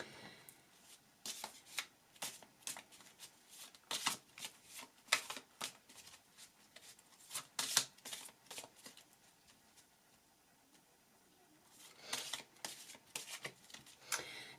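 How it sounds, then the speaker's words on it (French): Tarot cards riffled and shuffled by hand in quick, crisp bursts of flapping and snapping, close up, with a quiet pause before a final flurry of shuffling. "que je bats les cartes d'Asma"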